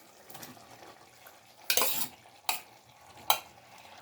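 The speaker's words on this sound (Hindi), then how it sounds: "अब मैं इस स्टेज पे आके इसमें ये पके हुए मुंगरे मैं ये डाल रही हूँ" Cooked mungre being stirred into a pan of nearly done sizzling masala for mongre chicken: a soft continuous sizzle broken by three loud scraping, splashing bursts of stirring spaced about a second apart.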